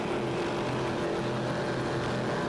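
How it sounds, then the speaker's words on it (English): Twin 820 hp JC Performance inboard engines power X-Tractor, a 1985 superboat with Mercury racing drives, at an offshore powerboat race on the bay off Patchogue, New York; a steady, dense engine roar drones on with no break. "X-Tractor is a 1985 superboat, powered by a pair of 820 horsepower JC Performance inboards"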